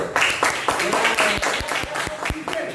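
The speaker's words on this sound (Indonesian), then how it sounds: "Ya bagus, tepuk tangan dulu" A primary school class claps together in a classroom, several short bursts of uneven applause, with a teacher's voice speaking over and between them.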